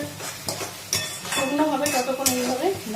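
A spoon stirs potol bharta with prawns in a pan, a few sharp metallic clinks and scrapes over a soft sizzle, while a voice talks over it.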